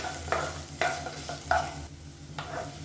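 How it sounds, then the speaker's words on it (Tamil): Grated coconut roasts in oil in a pan for a kurma, soft sizzling under repeated scraping strokes of a spatula, about five stirs in quick, uneven rhythm. "அந்த குருமா சேர்த்துட்டு நல்லா அந்த எண்ணெயில் வந்து வறுத்து விட்டுக்கலாம்"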